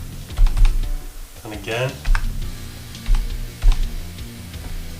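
Close, steady clicking on a computer keyboard while configuring a Windows mining setup, keystrokes coming in short bursts as someone talks briefly over them.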